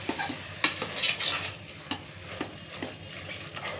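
Mutton being stirred with masala, salt and spices in a pan for a salna, close scraping strokes of a spoon against the pan in an irregular rhythm over a soft sizzle, no talk.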